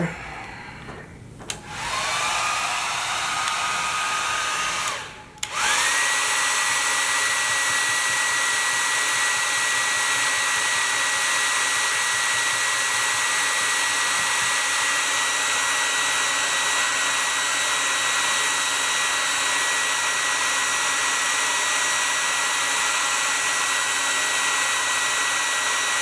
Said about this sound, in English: Get your hair dryer.